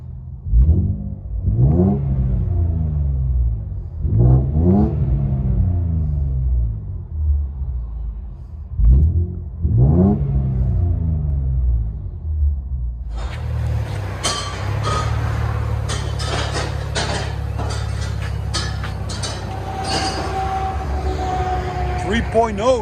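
2017 Infiniti Q50 S with the 3.0L twin-turbo engine and MBRP cat-back dual exhaust, heard from inside the cabin: several deep rev swells rise and fall, then a sustained loud droning run with engine rumble, and a voice talking over it.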